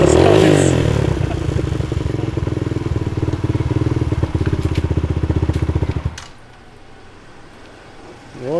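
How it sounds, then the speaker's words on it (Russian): A motorcycle engine idles and runs close to the microphone as a steady loud rumbling putter for about six seconds, then cuts to a much quieter background. "Когда Миша сел на мотоцикл, завел, я снимал экшен, как он что-то делает"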